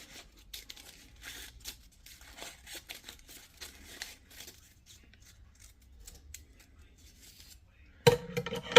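Scissors cut through a paper Möbius strip with a series of quiet, close snips and paper rustles, ending in a louder burst of handling noise.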